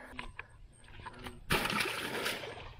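A bass released by hand back into lake water from a boat makes one sudden broadband splash, followed by a few seconds of sloshing and dripping, close by and fairly loud after a quiet lead-in.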